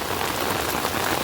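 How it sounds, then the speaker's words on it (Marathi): Torrential monsoon rain hammers down in a steady, dense, loud hiss of countless drops striking the ground nearby, continuous and unbroken, with no voices. "तुफान पाऊस"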